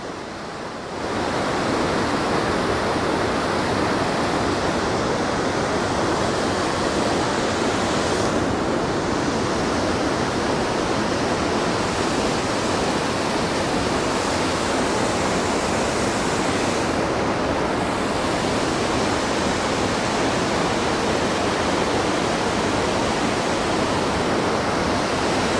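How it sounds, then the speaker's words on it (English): A waterfall at Devil's Hopyard State Park gives a steady, loud, close rush of falling water, a continuous broadband roar holding unchanged for the full length with no voices. "There's not a whole lot to say about a beautiful waterfall."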